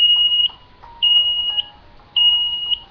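Three sharp high beeps from a front door remote receiver during programming, evenly spaced about a second apart, each sustained for half a second with a fainter lower tone beneath, loud and close with nothing else heard.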